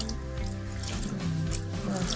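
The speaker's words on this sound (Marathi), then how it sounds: "त्यांच्यामध्ये पाणी थोडंसं टाकायचं जास्त नाही" Soft trickle of a little water poured into a pan, quiet liquid splashing over a low background hum.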